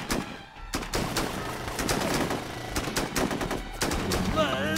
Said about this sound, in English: Too many fucking bullets over here.